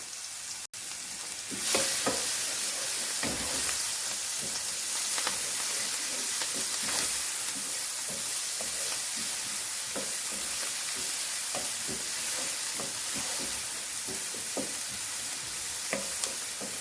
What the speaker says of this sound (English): we're going to give that a stir. We're going to toss it back and forth a little bit and get it nicely cooked